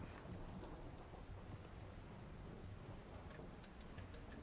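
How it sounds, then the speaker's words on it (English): Heavy rain hisses in a dense, steady wash in the video game Dustland Delivery, with a low thunder rumble underneath and no talking. "Heavy rain."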